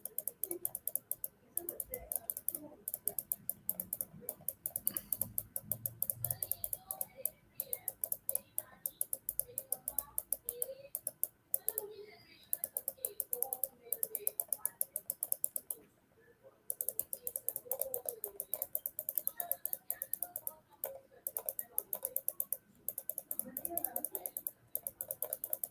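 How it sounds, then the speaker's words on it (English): Rapid, repeated mouse clicks in quick bursts during a Python coding demo, sharp close ticks running almost continuously with a few pauses, partly under quiet talk. "how these numbers are appearing as I click the mouse"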